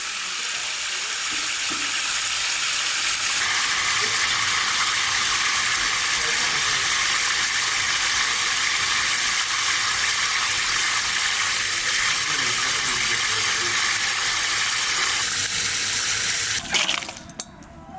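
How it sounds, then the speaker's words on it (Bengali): Fish scales being scraped off by hand in a home kitchen, a steady continuous rasping hiss lasting the whole stretch, close and fairly loud, ending with a brief clatter. "এই দেখো বসা দিচ্ছি, আর এই যে গুনি গুনি আঁশগুলো সব উঠিয়ে যাচ্ছে।"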